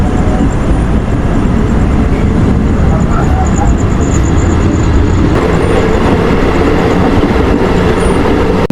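A Bardhaman to Durgapur local train pulls out of Golsi station after a one-minute halt, heard from inside as a steady, loud broadband rumble of wheels and carriage noise that thickens slightly toward the end.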